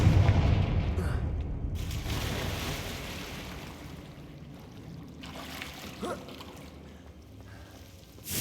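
Confringo explosive spell cast in Hogwarts Legacy, a video game: a heavy booming blast up front that rumbles and fades, followed by quieter pops and a fresh burst at the very end.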